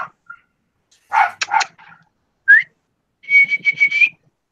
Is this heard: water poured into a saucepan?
no